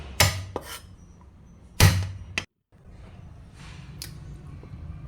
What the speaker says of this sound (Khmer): យើងមកដំខ្ទឹមម្ដង